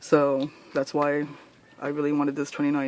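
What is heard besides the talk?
None of the usual background noises is heard.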